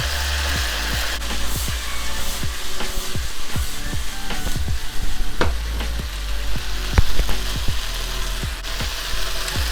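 Beef and tomato with garlic sizzle steadily in a hot wok during a stir fry, with repeated scraping strokes of a spatula stirring at an irregular rhythm, loud and close, with no talking.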